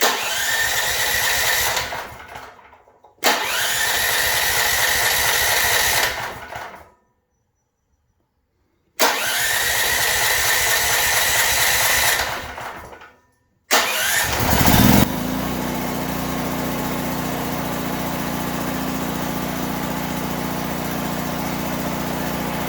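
Car engine cranking and firing through a NOCO Boost 1000 amp jump starter: two long starter-motor grinds separated by silence, a third cranking burst, then the engine catches at about fifteen seconds and settles into a steady running hum.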